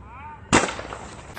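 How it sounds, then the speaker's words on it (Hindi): A single sharp air gun shot fired while hunting pigeons and doves outdoors, a sudden loud crack after a faint warbling background, trailing off into a short noisy decay. "चलो एक और शॉट लगा के बैक कर देते हैं।"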